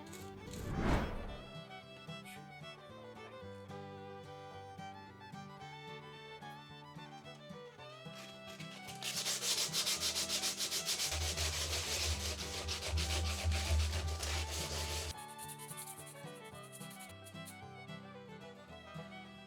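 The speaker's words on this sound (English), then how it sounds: "We will fill them with wood filler and sand the hull smooth later." Sandpaper rubs over the wooden hull of a Muscongus Bay lobster smack model ship, steady scratchy strokes close and fairly quiet, growing denser and louder in the middle stretch before easing off.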